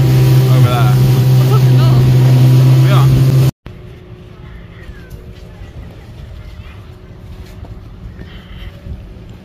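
A motorboat ride: a loud, steady engine drone with wind buffeting the microphone, then an abrupt cut to a quieter stretch of low hum and rushing air, with voices talking over it.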